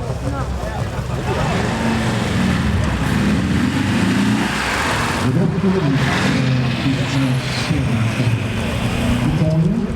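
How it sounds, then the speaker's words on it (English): Vintage race cars built between 1960 and 1975, among them an old Saab, rev their engines at the start of the first heat of a memorial race. The engine noise is loud and continuous, with voices heard underneath. "Time to start in the first heat for the cars built during the years 1960 to 1975."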